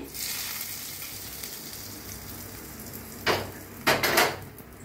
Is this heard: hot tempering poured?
yes